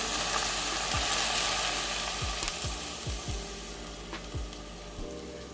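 Garlic frying in hot oil while cooking potato choka and saltfish gives a steady, close sizzle throughout, with a few soft low knocks of stirring scattered across it.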